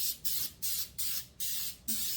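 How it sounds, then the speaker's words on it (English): Canola cooking spray is sprayed onto muffin pans in about five short, even bursts of hissing spray, close and distinct, each separated by a brief pause. "it's just the canola cooking spray"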